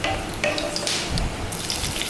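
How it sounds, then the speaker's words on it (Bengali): Dried chillies, cloves and cardamom frying lightly in hot oil, giving a steady close hiss and crackle with a faint stir partway through. "আমি এবার শুকনো লঙ্কাগুলো আর লং এলাচ যা যা আছে সব কিছু হালকা ফ্রাই করে নিচ্ছি"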